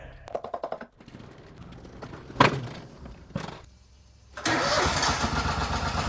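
An Exmark Lazer Z zero-turn mower fresh from servicing is started outdoors: short mechanical bursts and a sharp cranking catch, then the engine settles into a steady, loud, close running drone that continues to the end.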